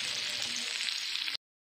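Chutney ingredients sauté in oil left over from frying chicken, making a bright, continuous sizzle that lasts just over a second and then stops abruptly into silence.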